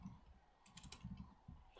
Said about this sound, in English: I don't really know how loud the keyboard is, and the mouse clicks and all that